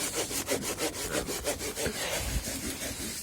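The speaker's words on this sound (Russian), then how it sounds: "Маленькой пилочкой пилит большое дерево." A small hand saw cuts back and forth through a big tree trunk beside a lake campfire, rhythmic rasping strokes about three per second, close and steady, gradually slowing and rougher toward the end.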